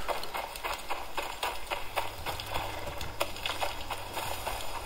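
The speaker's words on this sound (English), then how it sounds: "Oh, there's one of them horse things." Horse hooves clip-clop in the survival video game ICARUS, a steady, moderately paced trot of soft repeated thuds heard fairly faintly against a quiet outdoor ambience.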